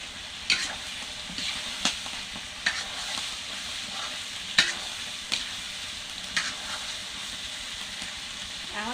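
Pointed gourd (potol) frying in oil with cooked-down spices for a vegetarian potato and potol curry, a steady close sizzle with periodic sharp clicks and scrapes of stirring, no talking.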